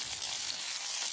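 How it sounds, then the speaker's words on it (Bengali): Flat beans (sim) sprinkled with salt sizzle while frying in a pan, making a soft, steady hiss that stays quiet and continuous. "তো তারপর সিমগুলো ওটার মধ্যে দিয়ে হালকা লবণ দিয়ে ভালোভাবে ভাজবো।"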